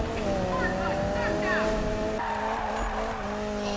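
A car in Need for Speed, its engine droning loudly while the tires squeal through a drift, with someone talking over it.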